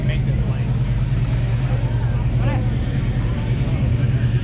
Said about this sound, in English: Somebody's running the motor across the street here.